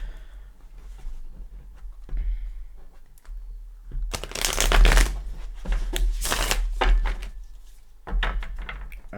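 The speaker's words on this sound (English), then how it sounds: "let's give these a shuffle or a cut" A deck of tarot cards is shuffled close up, with a dense, loud riffling burst lasting several seconds, a brief pause, then another short burst.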